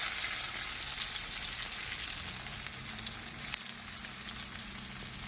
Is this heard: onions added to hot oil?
yes